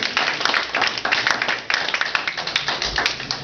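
A comedy club audience at a charity comedy show claps steadily, many hands producing a dense, continuous patter of fairly loud applause throughout.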